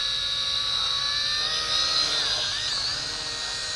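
A WLToys Q222G FPV quadcopter drone flying at 80% throttle gives a steady, close, high-pitched whine with a buzzing rotor drone that wavers and bends in pitch as it struggles to hold altitude, with no talk.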